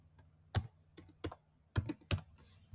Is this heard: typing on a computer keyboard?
yes